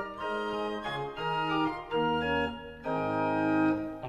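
A rare pipe organ sounds its quint stop paired with the 4-foot stop, a thin, bright line of sustained notes moving through a brief phrase, with no voices.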